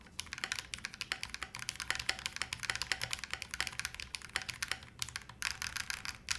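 A Heracles TKL mechanical keyboard being tested, with the spacebar under scrutiny, produces rapid, fairly quiet clacking keystrokes in an irregular typing rhythm, heard close up with no talking.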